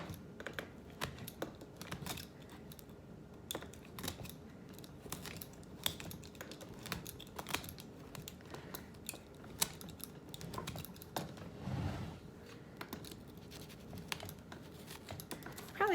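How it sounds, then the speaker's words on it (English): A utility knife slices through the back side of upholstery fabric on a chair, giving a steady run of small scratchy, crisp cutting ticks and rasps close up, with no talking. "So I'm just using a utility knife"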